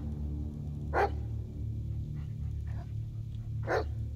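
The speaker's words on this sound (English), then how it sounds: "I shouldn't have made Blakey a black dog" Dog in a video game, a black dog, giving two short barks about three seconds apart over a steady low ambient hum, with faint rustling in between.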